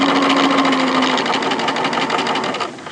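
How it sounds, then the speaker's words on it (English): A sewing machine edge-stitches bias binding around a garment armhole, running with a fast, steady mechanical whir and rapid needle rhythm that stops near the end. "Stitch on the edge, so just do a nice edge stitch, because you want to catch the raw edges underneath"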